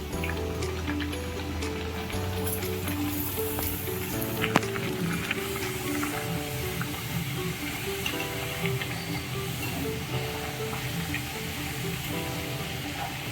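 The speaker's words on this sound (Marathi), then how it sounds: "तेलामध्ये मी आता ह्या पुऱ्या सोडते" Pumpkin puris (gharge) dropped into hot oil fry with a steady close sizzle and crackle, a dense continuous hiss of bubbling oil with no talking.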